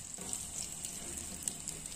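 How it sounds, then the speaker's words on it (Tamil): Onions sauté in hot oil in a pan for a country chicken fry, a faint, steady sizzle with soft crackles, heard alone without talk. "அடுத்து வெங்காயத்தை போட்டு நல்லா வதக்குவோம்."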